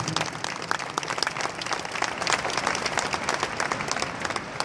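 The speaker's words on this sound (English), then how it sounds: "Please give a round of applause to yourselves" Steady applause from a large audience at a hall of fame induction ceremony, dense continuous clapping filling the room at even loudness throughout.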